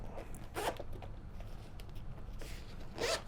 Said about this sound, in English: a nice little hard shell case for the microphone with a zipper on it